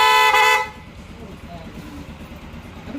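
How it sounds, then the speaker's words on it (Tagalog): Yamaha motorcycle horn giving one short loud toot at close range, followed by a quiet idle and background noise. "Busina mo nga."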